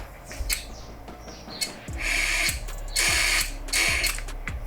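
A Ford Explorer evap vent valve powered from a 12-volt bench supply gives several sharp mechanical clicks at roughly regular intervals, close up over a low steady hum.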